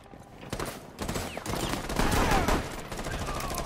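Gunfire in the video game Rainbow 6 Siege crackles in rapid bursts of overlapping shots, fairly dense and mid-distance, with a brief lull before another heavier volley.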